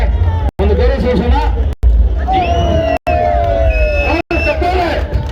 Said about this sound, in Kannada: ಚಪ್ಪಾಳೆ ಮೂಲಕ ಅವರಿಗೆ ಒಂದು ಗೌರವ ಸೂಚನ